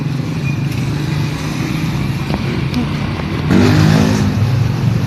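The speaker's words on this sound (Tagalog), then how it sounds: "May dumaan nagmamotor." A motorcycle rides past over constant roadside rumble, its engine note swelling louder toward the end as it draws near.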